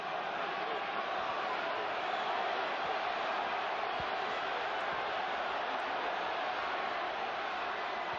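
A boxing arena crowd roars steadily through the Tommy Morrison vs George Foreman fight as the two trade combinations, giving a dense, unbroken wash of distant cheering.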